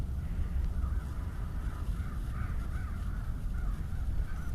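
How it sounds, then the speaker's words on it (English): Crows caw repeatedly in the distance, a series of harsh calls over a constant low rumble of background noise. "Crows are back."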